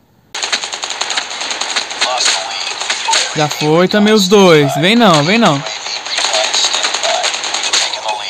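Rapid bursts of AK-47 automatic rifle fire in Call of Duty Mobile crackle loudly and continuously, while someone speaks over the shooting.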